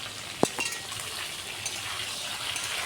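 Sliced ridge gourd sizzles steadily in a pan for a vegetarian jhinge posto, with one sharp clink near the start and then a continuous soft frying hiss.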